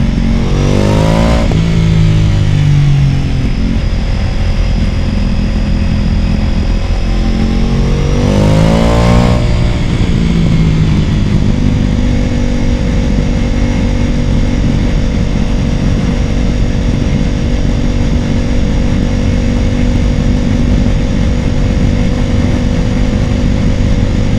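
A Ducati Pikes Peak motorcycle with a Stage 1 upgrade accelerates hard, its engine note rising through two loud revving sweeps before settling into a steady, close drone with no voices.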